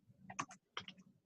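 Someone types on a computer keyboard in a quiet room, two short bursts of a few soft clicking keystrokes separated by a brief pause.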